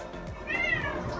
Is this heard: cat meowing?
yes